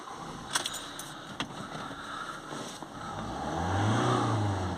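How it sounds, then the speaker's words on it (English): A 2.2 diesel Ford Transit Custom van with a particulate filter restriction fault idles with a few clicks, then its engine is revved and rises into a steady, louder drone close by. "I'll give it a good few accelerations"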